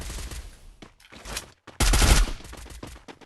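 Gunfire in the Free Fire video game comes in rapid bursts of automatic shots, separated by short pauses, with a loud sustained volley near the end.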